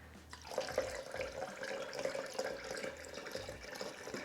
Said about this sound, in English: make sure you add the cocktail to the milk, not the other way around